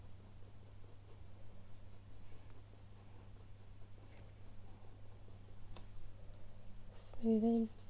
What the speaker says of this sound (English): Going back for the 2H pencil.